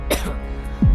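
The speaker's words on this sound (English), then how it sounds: "did he just cough?" One short, close cough right at the start, followed by a brief low thump near the end.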